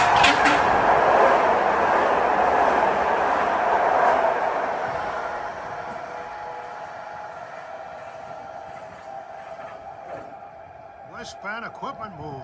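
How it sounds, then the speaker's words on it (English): A PATCO train crosses a noisy trestle with a concrete base, a loud, broad rumbling roar that slowly fades as it passes, ending in fainter clatter and squeal near the finish. "Boy, this is a noisy trestle. The concrete base gives it a totally different sound."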